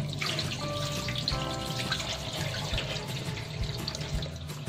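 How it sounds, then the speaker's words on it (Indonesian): Running tap water pours over soybeans as they are rinsed clean in a bowl, a steady close splashing stream with light clicks of beans being moved about. "Kita bilas hingga bersih."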